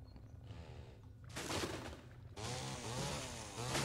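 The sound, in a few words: chainsaw in a video game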